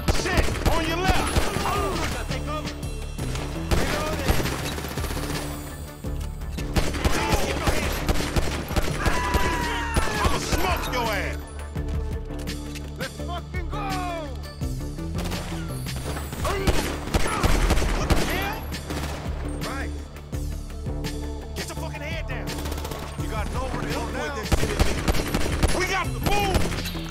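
Rapid bursts of gunfire in the GTA 5 video game, layered with a music track and shouted dialogue, with sustained volley-like shooting through most of the span.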